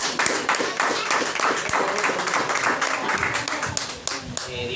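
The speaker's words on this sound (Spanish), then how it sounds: "Denle una ofrenda de aplausos al Señor." A church congregation claps together in worship, a loud, brisk, continuous rhythm of many hands filling the room, with some voices mixed in.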